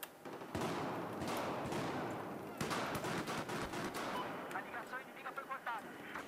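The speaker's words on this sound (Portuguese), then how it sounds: "Essas explosões muito bonitas sempre." Battlefield 4 gameplay from the Dragon's Teeth DLC, with dense gunfire and explosions booming continuously, rapid bursts and heavy blasts layered loudly throughout.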